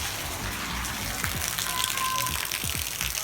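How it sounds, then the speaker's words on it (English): Steady afternoon rain falls outside on a rainy-season day, a constant hiss of drops on surfaces with scattered low patters, close and even throughout, with a faint voice in the background. "it hasn't stopped raining since the morning"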